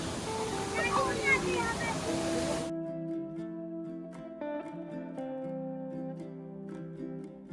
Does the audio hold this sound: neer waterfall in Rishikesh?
yes